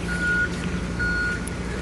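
A reversing vehicle gives two evenly spaced electronic beeps about a second apart, loud and clear over a steady low engine hum in an enclosed spot at Waikiki Beach early in the morning.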